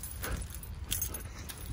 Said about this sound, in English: Sorry if you hear my keys jingling.